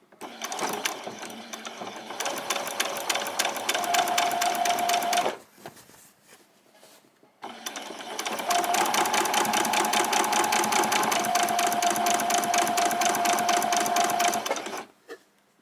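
A sewing machine stitches a summer top, two long bursts of fast, even needle chatter with a whirring motor tone, separated by a brief quiet pause.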